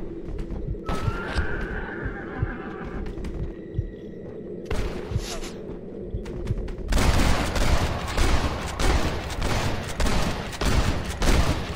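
Gunfire in the Western video game Red Dead Redemption, with a rapid fusillade of overlapping shots near the end and a horse whinnying earlier amid the game's ambient action.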